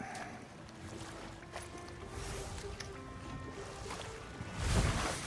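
In God of War Ragnarök, water sloshes and splashes steadily around a small boat being rowed, with creaking and a low rumble, ending in a louder splash.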